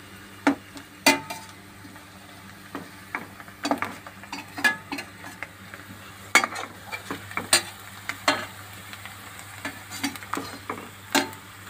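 Onions and potatoes frying in a pan are stirred with a utensil, giving irregular sharp taps and scrapes against the pan over a faint background sizzle, close and without talk.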